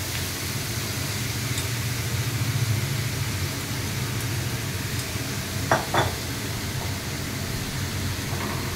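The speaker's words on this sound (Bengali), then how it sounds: "এবারে এই গ্রেট করে রাখা ফুলকপিটা দিয়ে দিচ্ছি" Grated cauliflower fries in oil with bay leaves, a steady hissing sizzle with a low rumbling background, broken by two brief clinks of a utensil against the pan.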